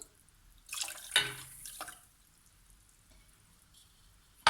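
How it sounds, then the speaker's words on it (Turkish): Two glasses of water are poured into a pot for making syrup, with a short splashing pour near the middle and a quiet lull afterward. "yine aynı bardak ölçüsüyle 2 su bardağı su ekliyorum"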